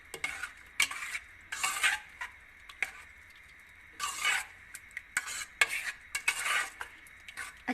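Ingredients and oil for achar gosht being mixed in a bowl with bursts of wet, scraping stirring and clinks of a utensil against the vessel, separated by short pauses, close and without talk.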